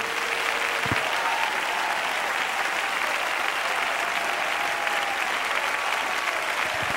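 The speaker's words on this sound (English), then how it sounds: "Now clap your hands." A church congregation breaks into sustained applause, a dense, even wash of clapping that stays loud and unbroken from start to finish, with no voices rising above it.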